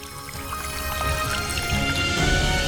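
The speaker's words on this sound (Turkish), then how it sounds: "Sadece bu şişeye biraz su ekmeniz gerekiyor." Water pouring steadily into a bottle, a continuous close trickle that grows slightly fuller as it fills.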